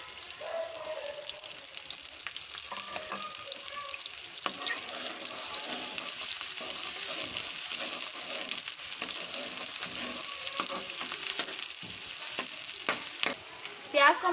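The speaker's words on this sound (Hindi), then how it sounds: "ऑयल हमारा अच्छे से गर्म हो गया है। अब मैं इसमें प्याज शामिल करूँगी।" Chopped medium onions tossed into well-heated oil for a restaurant-style keema, giving a steady moderate sizzle and crackle throughout with occasional stirring clinks and scrapes near the pan.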